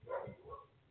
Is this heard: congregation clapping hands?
no